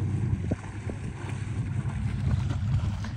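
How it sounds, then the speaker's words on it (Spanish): A gasoline motorboat with an outboard motor runs on the water at Puerto Chale, a steady low engine drone mixed with wind buffeting and splashing, close and continuous with no talk. "Estas lanchas son de gasolina, ¿verdad? Sí, sí. Y motor fuera de borda."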